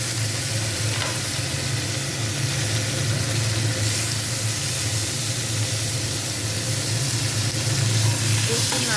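Panch phoron seeds sizzle in leftover oil from frying fish, a steady dense crackle and hiss heard up close, with faint stirring throughout and no speech.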